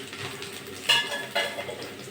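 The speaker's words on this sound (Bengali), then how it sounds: "দিয়ে একটু নেড়ে চেড়ে নেবো।" Ginger-garlic paste being stirred into fried onions in a pan, two sharp utensil scrapes against the metal over a soft sizzle, heard up close with no speech.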